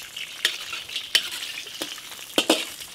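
Scallion, ginger and star anise stir-fried in hot oil in a wok, a steady crackling sizzle broken by several sharp scraping stirs of the spatula, close and fairly loud, with no voices.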